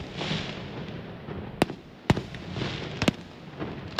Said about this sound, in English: firework displays were held at 10 sites across the state